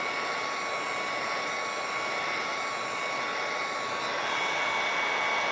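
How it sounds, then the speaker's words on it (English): A heat gun blows steadily to soften the glue on an emblem stuck to a mini fridge, a continuous even hiss-roar that stays loud and unchanging throughout with no talk. "So I use a heat gun."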